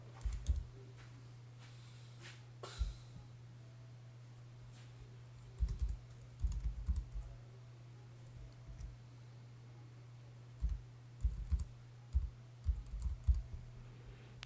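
An email address being typed on a computer keyboard: scattered bursts of quick, close key clicks separated by pauses, over a steady low electrical hum, with no talking.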